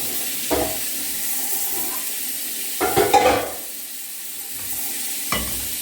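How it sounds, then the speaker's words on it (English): Chopped onion frying in cooking oil gives off a steady close sizzle, broken by a few louder scraping stirs near the start, middle and end, with no voices. "are going to fry it with onion and only oil, cooking oil."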